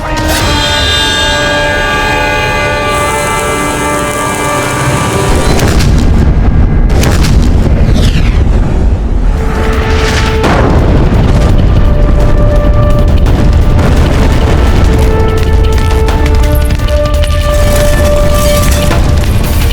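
Mughal cannons firing shells on a battlefield: heavy booming blasts and rumbling artillery over a loud, continuous din, with a sustained tonal drone early on giving way to repeated deep impacts and roaring.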